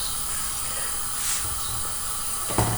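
Papdi dough sizzling in hot oil over a medium-low flame, a steady close hiss running throughout with a brief louder bubbling burst near the end as a piece goes in.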